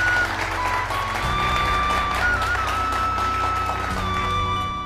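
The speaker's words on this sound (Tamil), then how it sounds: "கைதட்டுங்கப்பா." Classroom of students clapping after being told they all passed, a steady dense patter of hands with sustained tonal background hum and brief voices mixed in, close and moderately loud throughout.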